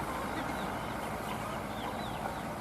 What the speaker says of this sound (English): Chickens! Look at the babies!